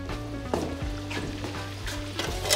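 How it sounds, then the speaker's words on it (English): Deer ribs frying in bacon grease in a home kitchen give a steady, close sizzle with a few faint pan knocks and stirring scrapes, and no one speaks. "In here is some bacon grease, and we are frying up some deer ribs."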